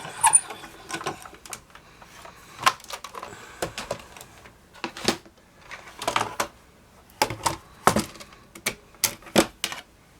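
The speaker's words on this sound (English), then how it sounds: "Don't touch the plate when it's going through. Let the machine do the work for you." Spellbinders Platinum 6 die-cutting machine pressing a plate through, giving irregular mechanical clicks, clacks and rattling bursts at close range, with no talking.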